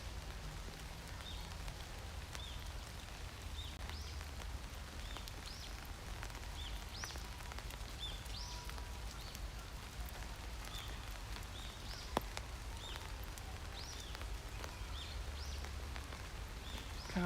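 Autumn rain on a cool, cloudy day in Tokyo, Japan, a soft steady patter on surfaces with faint scattered drips and occasional chirps, low and even throughout.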